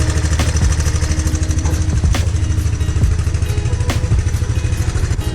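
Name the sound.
Big Red 200ES engine idling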